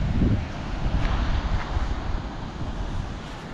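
Wind roars across the microphone over a low rumble of ocean surf on a Danish surf beach, continuous and fairly loud, with no voices.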